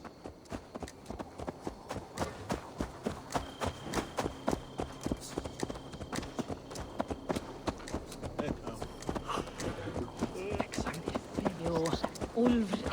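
Horse hooves in the video game Assassin's Creed Valhalla, steady rhythmic clip-clop of a walking horse throughout, moderately close, under game voices and ambient sound.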